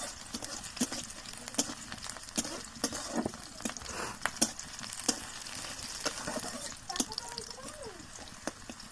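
Onions frying over a mud stove, a continuous crackling sizzle with frequent scraping stirs and clicks, close and fairly busy, with a voice talking at times.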